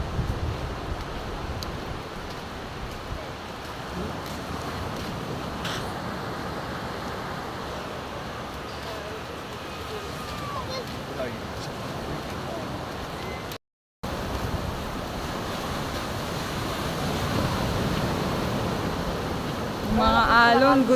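Surf rolling onto Lio Beach in El Nido, Palawan, a constant broadband roar of breaking waves mixed with heavy wind buffeting on the microphone, steady throughout with a brief dropout midway and a surge near the end.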